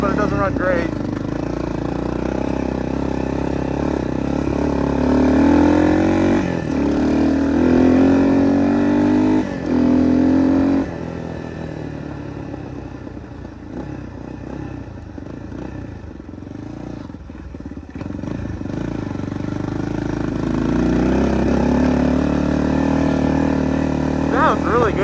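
A 1986 Yamaha BW200 big-wheel motorcycle engine runs close by, revving up and settling in uneven bursts, with a person talking over and between the engine noise.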